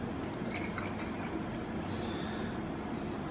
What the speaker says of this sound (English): We'll pour water.